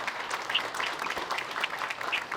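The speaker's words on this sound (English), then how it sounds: "Let's give them a round of applause." Audience at a community health data-sharing panel applauds steadily for about two seconds, a continuous wash of clapping at moderate level with no speech over it.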